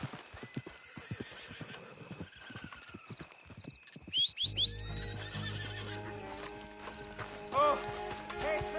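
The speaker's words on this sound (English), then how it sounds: "My horse ran away." A horse whinnies loudly in the Red Dead Redemption II video game, a couple of close, sharp neighs over hoof clip-clop and faint mechanical ratcheting, with no talking.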